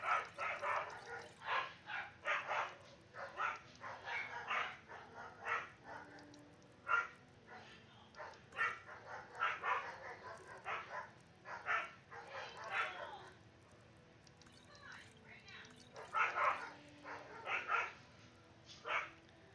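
A pet dog barks again and again indoors, short sharp barks coming in irregular bursts, some single and some in quick clusters, moderately close but fairly quiet overall.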